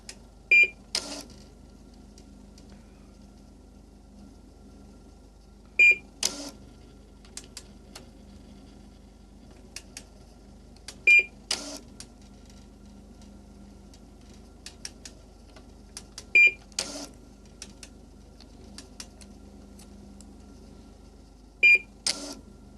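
A DECWriter III printing terminal runs, giving short, sharp mechanical clattering bursts at regular intervals of roughly five seconds over a faint, steady low hum.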